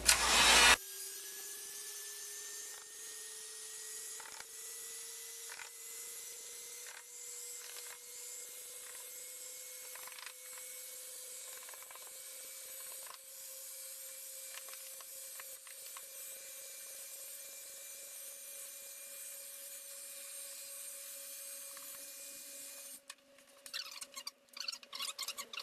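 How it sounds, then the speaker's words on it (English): A heat gun works over wrinkled Tolex covering on a Yamaha DG80-112 guitar amp, giving a steady whining blower hum that climbs slightly in pitch, with faint scattered ticks and a burst of rustling near the end. "I'm going to use a heat gun to see if I can get some of the wrinkles out of this thing"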